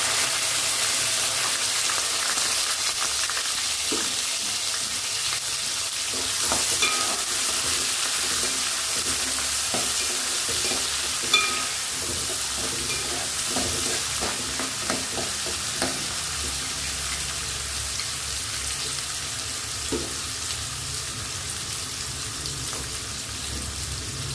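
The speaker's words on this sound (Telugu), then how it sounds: "కరివేపాకు వేసుకున్నాక ఆనియన్స్ వేసుకున్నాం" Onions and curry leaves fry in a pan, with a continuous bright sizzle and scattered stirring scrapes and clicks; the hiss stays steady and close, with no voices.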